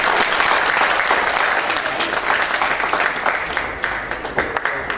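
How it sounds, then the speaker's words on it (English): Audience applause for dignitaries at an e-governance conference in Haryana, a sustained, dense round of clapping from a large crowd that holds strong throughout with slight pulsing. "Can we have a huge round of applause?"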